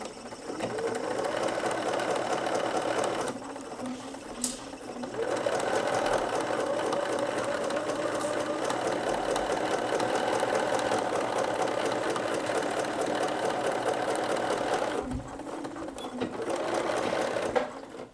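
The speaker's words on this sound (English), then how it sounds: "And now we're ready to top stitch." Sewing machine topstitching a flat felled seam, a steady close mechanical whir running nearly continuously with two brief pauses where the needle stops.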